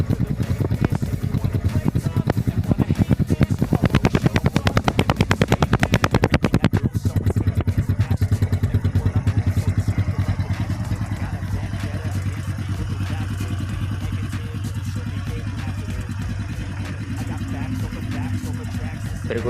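A Honda Supra Fit motorcycle engine runs steadily, heard close at the exhaust after being taken apart and reassembled. It gives a continuous low, even putter that is sharper in the first few seconds, then settles into a smoother, slightly quieter hum.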